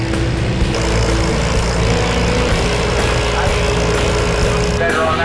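Vintage David Brown tractors pull in the under-20-horsepower class at a vintage tractor pull in Tylden, their engines droning loud and steady with a rough, continuous rumble throughout.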